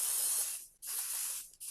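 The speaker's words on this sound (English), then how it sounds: "give this a shake, and put a light coating of the Pixie Spray all over the back of the stencil" Two hissing bursts of aerosol spray onto the back of a stencil, each about three-quarters of a second, with a brief gap between them, close and steady.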